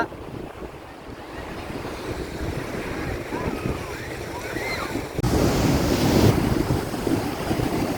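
Ocean surf rolls and washes continuously at Pazhaverkadu Beach while wind buffets the microphone, growing louder and rougher in the last few seconds.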